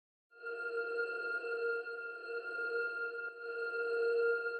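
A dark, sustained flute-like melody sample layered with an eerie glassy texture on the root notes, steady tonal drones with clear harmonic overtones, moderately quiet and without voices.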